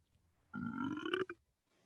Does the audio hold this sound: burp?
yes